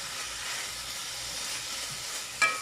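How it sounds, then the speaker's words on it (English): Beans fry on a stove set to high, giving a steady, dense sizzle with a sharp crackle near the end. "almost looks like it's burning, but it's actually frying nicely"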